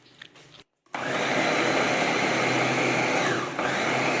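A blender grinds a kofta mixture of meat and cinnamon, starting after a brief pause with a loud, steady whirring drone that holds nearly unbroken, dipping slightly for a moment before resuming.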